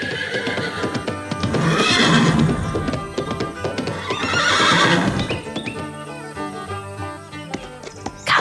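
A horse in a park neighs loudly in two long whinnying bursts a couple of seconds apart, with faint hoof clops and other rustling around it and no speech.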